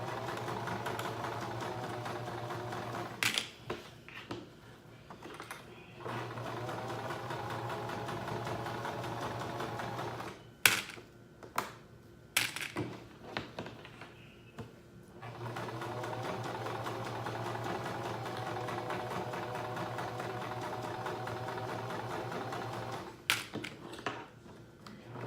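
Sewing machine stitching forward in long steady runs, a close mechanical hum that pauses briefly between passes, with clicks and handling noises in the gaps.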